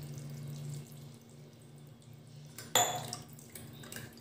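Cool water is poured over boiled Maggi noodles in a strainer, making a steady soft running trickle with a brief louder splash partway through.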